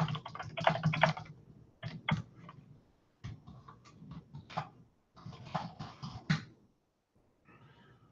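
Irregular bursts of close keystrokes on a computer keyboard, typed in short runs separated by brief pauses, with a faint trailing patter at the end.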